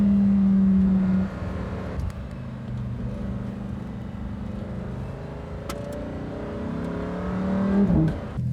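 Lamborghini Huracan Performante Spider and Lamborghini STO supercars drive near the Château de Chantilly, engines loud and close, revving with a sharp shift around two seconds, then rising again toward the end.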